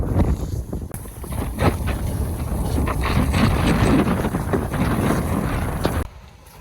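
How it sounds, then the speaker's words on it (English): Strong wind buffets the microphone at a reservoir outlet, a continuous loud roaring rush with heavy low rumble that drops away abruptly near the end as shelter is reached. "Right, now I'm out of that wind."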